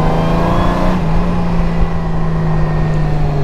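A 2021 Honda Gold Wing motorcycle with an automatic transmission accelerating, its close, steady engine drone dipping in pitch about a second in and then holding as it pulls, with no talking.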